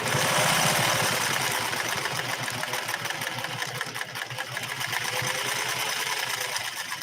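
A Singer 401A sewing machine stitches fabric at a steady speed, its rapid needle chatter and motor whir running continuously and close for the whole stretch.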